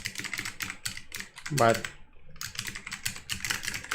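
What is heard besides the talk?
typing on a computer keyboard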